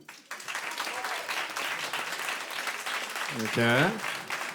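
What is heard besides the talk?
audience applause to vote for a candidate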